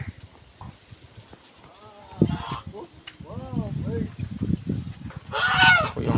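Loud goose honks ring out in short bursts, a couple of harsh calls and then a longer one, over background murmuring and outdoor noise at a tourist spot in Puerto Princesa, Palawan.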